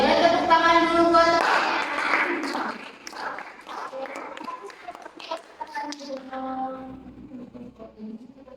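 Students in a classroom clap their hands during a microteaching lesson. The clapping is a moderately loud burst under a speaking voice, and talk continues over lighter scattered claps.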